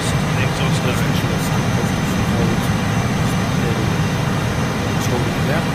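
A Harrier jet engine in Microsoft Flight Simulator 2024, a loud continuous roar and whine holding steady throughout while the jet hovers and moves backwards.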